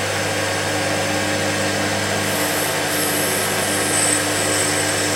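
A workshop lathe skimming down the end of a brass piece for a knocker tool, a continuous close mechanical hum with a faint hissy cutting sound running throughout.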